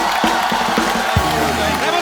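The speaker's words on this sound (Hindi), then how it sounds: "ओके ओके पहले रेमो सर के लिए जोरदार तालियां हो जाए।" A studio audience on The Kapil Sharma Show, a Hindi comedy talk show, cheers and applauds in a short, loud, dense burst of crowd noise.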